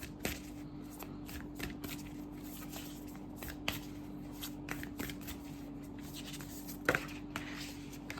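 Tarot deck being shuffled by hand, a steady run of soft riffling card flicks and taps, close and fairly quiet, with a faint constant hum beneath and no talking.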